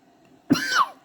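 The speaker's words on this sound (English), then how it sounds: "don't mind the odd cough here and there" A single short, harsh cough from a person with asthma, close and sudden, lasting about a third of a second against near silence.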